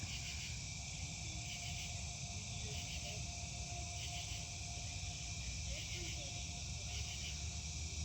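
Insects chirp outdoors at night by a backyard fire pit in southwest Ohio: a dense, continuous high trilling chorus with gently pulsing layers, steady throughout over a low background rumble.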